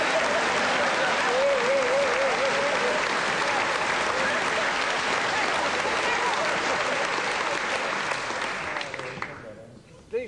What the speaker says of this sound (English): Shall we give them a clap as well?